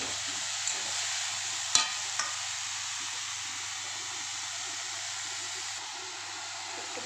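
Banana flower and ginger fry in a pan, giving a steady low hiss of oil with a few soft clacks of a spoon as the mixture is stirred.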